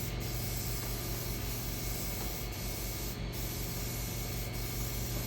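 A steady, close spray-paint hiss runs without a break while parts for Robotron and Sinistar arcade games are coated, with faint clicks from the nozzle.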